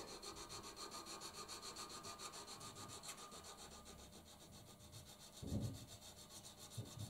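A lathe tool bit is rubbed by hand in full contact on a flat diamond lap, making a faint, steady rhythmic scraping with regular strokes and a brief louder scrape near the end.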